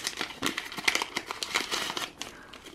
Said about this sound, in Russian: Так, я открыла пакетик.